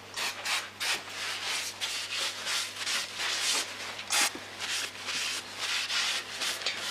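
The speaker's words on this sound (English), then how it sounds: "now I'm just going to quickly clean the caliper." A mountain bike brake caliper being wiped clean with brake cleaner and a workshop towel, heard as steady, close rubbing and scrubbing strokes in a continuous rhythm with a brief sharper hiss partway through, and no talking.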